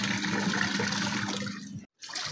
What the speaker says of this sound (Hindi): पानी बंद कर देते हैं